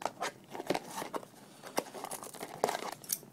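Scissors working at the plastic packaging of a deck box, giving close, quiet crinkling, tearing and snipping sounds in irregular bursts.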